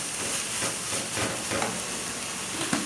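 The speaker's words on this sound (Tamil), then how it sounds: "இது வந்து இப்படியே கிண்டிக்கிட்டே இருக்கணும்" Cucur badak filling mixture being stirred in a hot pan with salt and sugar, giving a steady close sizzling hiss broken by soft scraping strokes.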